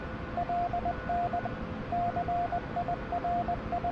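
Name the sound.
Morse code signal received on Huey helicopter radio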